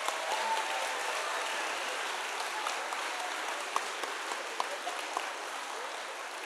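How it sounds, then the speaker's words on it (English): A school audience applauds the performers at the close of a Christian lower school fine arts concert, steady and fairly distant, with a few sharper claps standing out near the end. "let's give all of our performers one more big round of applause."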